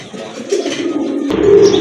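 A pair of pigeons coos for sale at close range, giving a soft, low, throaty call that swells and grows a little louder toward the end of the short stretch.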